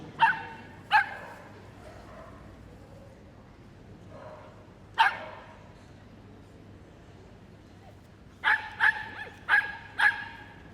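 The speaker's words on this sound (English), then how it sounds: "Bernadette and Yay, last of the small dogs in the Crufts singles." Small dogs bark at a Crufts agility jumping heat, in short sharp yips and barks. Two come early, one falls mid-way and a quick run of four closes the clip, over low arena murmur.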